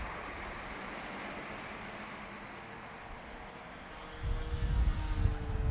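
A radio-controlled Durafly Beechcraft M35 Bonanza model airplane's small engine whines steadily from a distance, with a faint high buzz. Wind noise then rumbles in loudly near the end.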